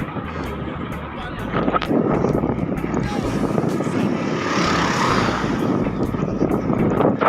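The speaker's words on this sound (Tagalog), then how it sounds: "Kung naririnig nyo, yan, napakalakas ng headwind." Strong headwind roars across the microphone while road cycling, a loud continuous rushing buffet that holds steady throughout, with no talking heard.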